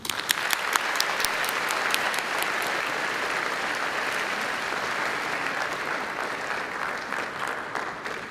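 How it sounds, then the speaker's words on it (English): Sustained audience applause at a high school Veterans Day program, a dense steady wash of many hands clapping that holds for the whole stretch, with a few sharper individual claps standing out at the start. "Please join me in another round of applause."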